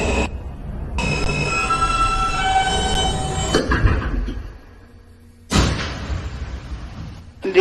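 A Queens-bound N local train on the New York subway Broadway line rumbles and screeches loudly along the rails, steady and close, drops to a quieter lull, then surges again with a sudden clattering roar.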